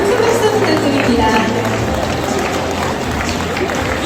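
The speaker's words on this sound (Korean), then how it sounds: "여러분 큰 박수 부탁드립니다" A large crowd at an Atomy promotion ceremony applauds in a dense, continuous wash of clapping, with an announcer's voice running over it.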